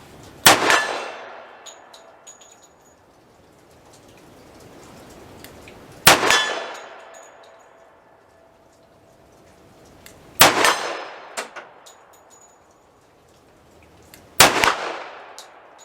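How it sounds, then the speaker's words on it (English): Four loud 10mm shots from an M&P 2.0 pistol with a red dot at an outdoor range. Each bang is followed by a ringing clang from the steel target, spaced several seconds apart and decaying between shots, with no talk. "I'm going to see if I can make some shots on that steel with this red dot"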